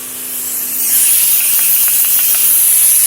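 Loud, steady hiss of compressed air escaping from a blown gasket on a Stanley nail gun, swelling after a second and then holding continuously, with a few faint clicks underneath.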